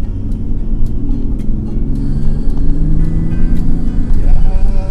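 A Mercedes-Benz S 320 W140 with a 3.2-litre engine accelerates hard, its loud engine drone rising steadily in pitch, heard from inside the large sedan.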